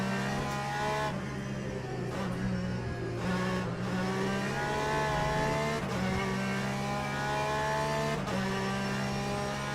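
An LMP2 prototype race car in Le Mans Ultimate at Sebring drones with a loud, steady engine note, its pitch dipping and climbing through gear changes and lifts.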